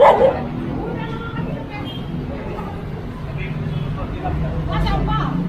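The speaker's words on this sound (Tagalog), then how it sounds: "May aso." Dogs bark and yip repeatedly outdoors during a roadside obstruction clearing. The barks mix with people talking loudly nearby, and a cluster of yelps sharpens near the end.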